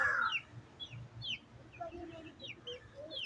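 Hens cluck in soft, irregular bursts at close range, with short chirpy calls scattered through a quiet yard and no talk.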